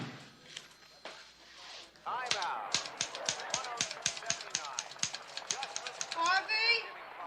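Rapid mechanical typewriter keystrokes clack in a quick, fairly regular run, close and crisp, under a low bed of background noise from a ball game broadcast.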